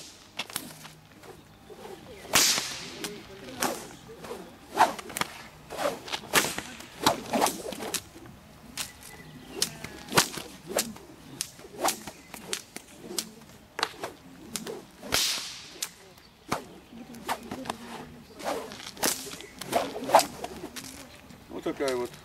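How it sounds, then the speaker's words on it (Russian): Whip cracks at a summer martial-arts camp, sharp snapping reports repeating irregularly through the whole stretch, some loud and close, others lighter, with occasional talk and movement noise between them. "Вот когда работаешь, допустим, с двумя трехметровыми кнутами, это действительно это самое."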